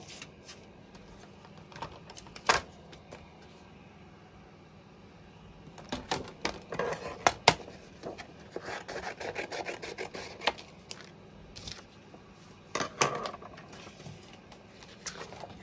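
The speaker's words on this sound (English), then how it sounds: "So I'm going to die cut that 3 times and put that at the top." A die cutting machine presses card for a handmade mechanic-themed greeting card, giving quiet rubbing and rasping passes in bursts around the middle and again near the end, close by with no talking.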